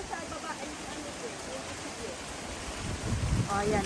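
Strong, cold wind ahead of a typhoon sweeps across a banana plantation, a steady broadband rush that swells louder near the end, with faint voices underneath.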